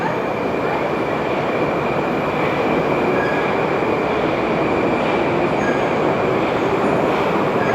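A Russian metro train rumbles loudly and continuously, with a dense mechanical roar and a faint high-pitched whine running steadily throughout.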